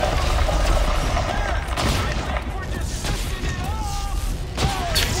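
Dense, loud gunfire and booming effects from the sci-fi horror game Dead Space 3 fill the whole stretch, with whistling tones rising through the din and voices talking under it.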